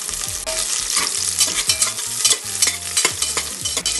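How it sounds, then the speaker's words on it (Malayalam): Onions fry in cow's-milk ghee for ghee rice alongside a prawn biryani. A steady, fairly loud sizzle carries on throughout, with frequent stirring scrapes and clatters of the spoon against the pan and no voices. "ഉള്ളി നന്നായി പൊരിയുന്നുണ്ട്"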